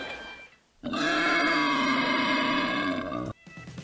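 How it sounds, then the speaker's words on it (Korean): A wild boar gives a long, loud, rough grunting roar for about two and a half seconds, close and unbroken, with quieter sounds before and after and no voices. "딱 들으면 멧돼지잖아"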